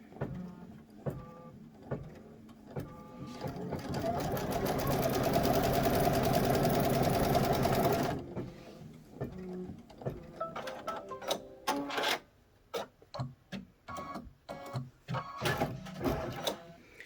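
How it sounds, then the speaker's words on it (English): An embroidery sewing machine stitches a fabric piece held in the hoop, pieced-border style, its dense rapid needle chatter swelling louder midway before giving way to intermittent clicks and short mechanical bursts, close up with no talking. "So we are going to cover that bottom piece and stitch that in place."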